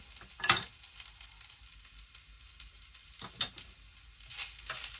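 Bell peppers frying in a pan on heat set too high, giving a steady low sizzle with brief louder crackling bursts near the start and around the middle.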